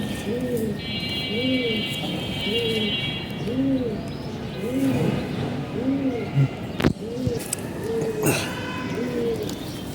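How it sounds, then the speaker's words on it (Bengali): Racing pigeons coo in a steady repeating series of soft, rounded calls close by, with a faint background hum, a brief sharp knock and occasional chirps. "এটা আমার রিসেন্টলি কালেক্ট করা কবুতরটা"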